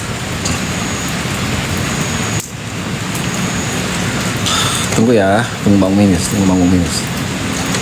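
Steady rain falls at a cemetery, a constant hiss throughout, with a few sharp knocks and people talking over it near the end.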